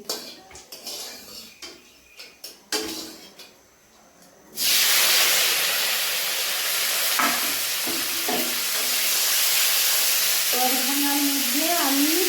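Cumin seeds, then chopped star fruit, drop into hot oil for a kamranga chutney, bursting into a loud, steady hiss and sizzle after a few quieter pan knocks, with a voice speaking over the frying.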